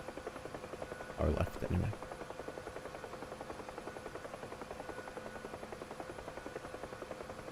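A Huey helicopter in the DCS World flight simulator flies with a steady, rhythmic rotor thump throughout, while someone speaks briefly over it near the start.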